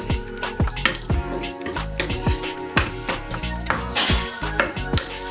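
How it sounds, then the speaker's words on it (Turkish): Potatoes are stirred in melted butter in a pan, with a utensil knocking and scraping the pan in uneven, rhythmic clanks over a faint sizzle, close up and with no talking. "Önce bunları tereyağıyla böyle bir karıştıracağım"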